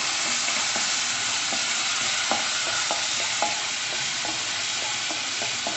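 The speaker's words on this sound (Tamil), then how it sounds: "இது நல்லா மிக்ஸ் பண்ணிக்கலாம்." Popcorn being stirred into tomato sauce in a hot pan, with repeated scraping strokes of a spoon over a steady, close sizzle of frying and no voices.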